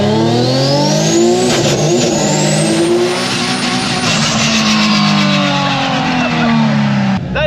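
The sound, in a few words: rear-mount turbo Nissan 350Z drift car revving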